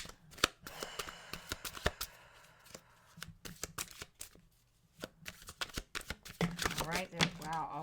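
Tarot cards shuffled by hand at close range in repeated sharp riffles and flicks, with a voice talking over the shuffling.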